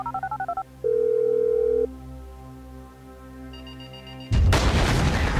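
Phone keypad dialing tones in GTA V, a short run of rapid beeps followed by steady sustained ring tones and a higher tone, then a loud burst of noisy game action at the end.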